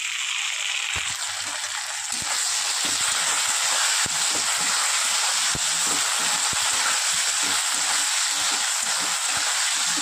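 Ginger garlic paste hitting hot oil with fried potato and onion gives a loud, steady, close sizzle that runs throughout with no talking.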